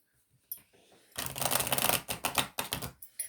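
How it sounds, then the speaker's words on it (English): Essential oil oracle cards are shuffled close up in a quick riffling burst, followed by a few crisp flutters and slaps as the deck settles, with no talking. "These are essential oil cards, oracle cards. We'll see what comes up."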